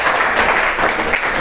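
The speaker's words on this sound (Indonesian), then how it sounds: "Silahkan berikan tepuk tangan untuk kelompok 5." A classroom audience applauds a student group after its presentation, a dense, steady patter of many hands clapping that carries on without pause for the whole stretch, with no voices over it.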